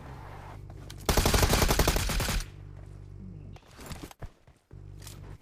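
An MK rifle fires in the mobile battle game BGMI as a rapid burst of loud shots lasting just over a second, followed by quieter game ambience and a few faint movement sounds.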